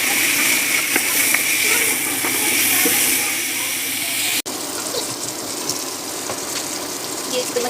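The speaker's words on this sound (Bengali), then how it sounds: "মাংসটাকে অনেক ভালো করে কষাবো এখন" Beef frying with a paste of garam masala, ginger, garlic, dried chilli and coriander powder gives a loud, dense sizzle and steady hiss that drops a little partway through. No one speaks.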